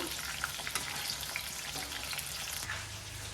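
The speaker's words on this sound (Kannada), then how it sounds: "ಎಣ್ಣೆಯಲ್ಲಿ ಫ್ರೈ ಮಾಡಬೇಕು" Spices for a North Karnataka stuffed brinjal dish fry in oil with a soft, continuous hiss and sizzle that sounds fairly faint and close, with no voices.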